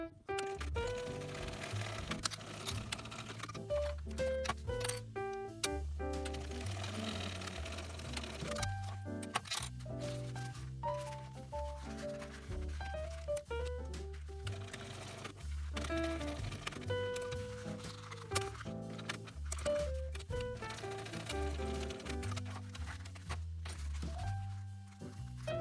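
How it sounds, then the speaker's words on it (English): Sewing machine running top stitching along the side seams of a bag, a quiet stream of rapid needle clatter in bursts and runs with short pauses and some handling between stretches of stitching. "I'm just going to top stitch each side of the seam"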